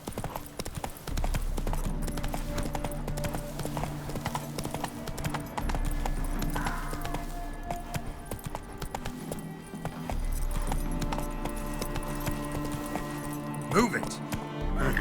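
Horse hooves clip-clop steadily through The Witcher 3 as a horse moves along at a steady pace, mixed with game music and ambience while characters talk over it.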